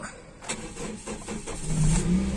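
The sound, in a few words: used 2013 car engine starting up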